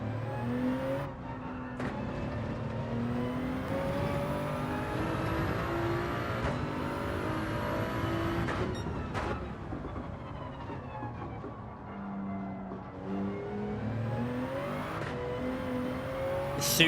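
Toyota Supra race car in Gran Turismo 7 during a daily race, its engine droning steadily with shifting revs and gear changes throughout, loud and continuous with no talking.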